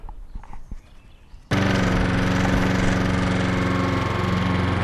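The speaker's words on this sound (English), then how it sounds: "it'll be picked up with the mower first" A lawn mower starts up abruptly after quiet outdoor sounds and then runs loud and steady, picking up scarified grass waste from a lawn.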